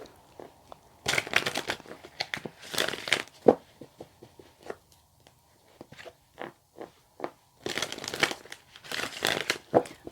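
Tarot cards are drawn out and handled in bursts of crisp crinkling and shuffling, close and fairly quiet, with short silent gaps between the rustles.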